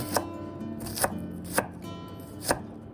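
A knife chops ginger, garlic and shallots into a fine mince on a board, with four crisp, evenly spaced strikes over a faint background hum, close and clear with no talking.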